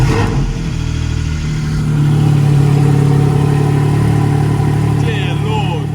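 A Porsche GT4 sports car engine with an Akrapovic exhaust rumbles loudly at close range, holding a deep, steady growl with slight rises in revs throughout.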